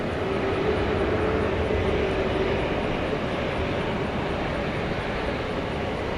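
A Frontier airliner takes off at night from runway 18 right at DFW Airport, its engines giving a broad, steady, distant roar that fills the air.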